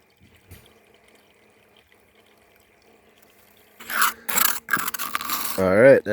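Last of the dirt fed and scraped into a short gold cleanup sluice, a near-silent stretch breaking into loud rasping scrapes and splashing, sloshing water near the end.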